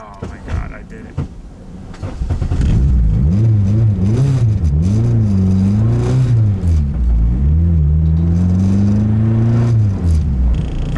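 A turbocharged K24-swapped Nissan Cefiro accelerates hard in first gear, its loud engine note climbing and dropping through repeated revs, close to the car, with cabin rumble underneath.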